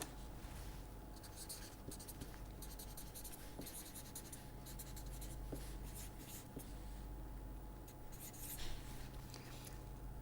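Steady pen or chalk writing runs continuously as time center equations are worked out, a close scratching texture with short strokes throughout. A quiet background hum sits underneath, with no speech.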